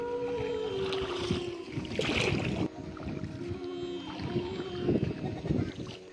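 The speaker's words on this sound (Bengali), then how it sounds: "অবশেষে নৌকাটি এসে ফিরল কাকার বাড়ির ঘাটে।" A rowing boat glides across open wetland water, its oars dipping and splashing in an uneven rhythm close by, with water lapping and a faint hum of the surroundings underneath; no one speaks.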